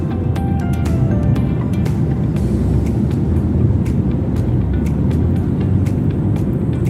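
A car drives along Clarence Drive, the R44 coastal road in South Africa, with a steady, close road and engine rumble running unbroken throughout. No one speaks.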